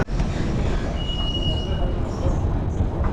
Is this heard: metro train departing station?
yes